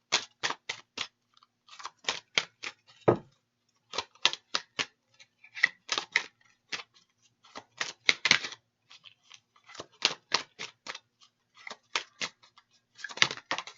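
Tarot cards are shuffled and drawn: quick bursts of crisp riffling and flicking snaps in irregular clusters, close and fairly quiet, with short pauses between.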